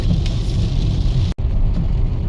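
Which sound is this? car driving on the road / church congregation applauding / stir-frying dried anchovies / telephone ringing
car driving on the road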